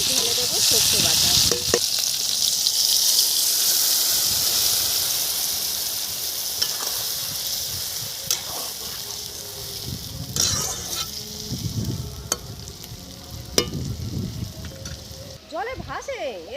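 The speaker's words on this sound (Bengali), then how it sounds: "ঢেঁড়স ভাজা হয়ে গেছে, এখন আমি ঢেলে দেবো সর্ষে বাটা।" Okra fries in a pan with mustard paste, starting with a loud, bright sizzle that gradually softens, broken by occasional utensil clinks and stirring knocks.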